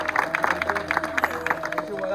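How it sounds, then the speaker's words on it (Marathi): A group of Govinda troupe members at a dahi handi practice session in Khar East claps in a quick, even rhythm, with a voice speaking and faint music underneath. "एकदा त्यांच्यासाठी जोरदार टाळ्या होत्या."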